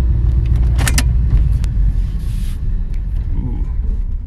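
A 1981 Pontiac Grand Prix engine idles with a low, steady rumble close by, a few sharp clicks and jingles over it, then the running note sags and fades as the engine stalls.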